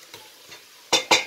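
Meat kavurma sizzling in a pot on a low flame, with a few soft stirring scrapes followed by two louder bursts of sizzle and spoon movement, close and alone.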